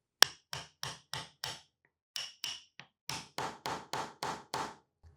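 A hammer block taps a wooden piece of a homemade candy dispenser down until flush: a run of five sharp knocks, a pause, two more plus a lighter one, then a steady series of seven firm taps, close and alone.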